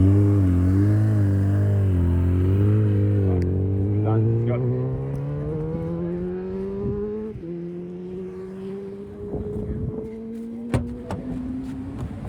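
A land speed racing motorcycle on the Bonneville salt flats revs and climbs steadily in pitch as it accelerates, loud and close, shifting gears before a sharp click and knock near the end.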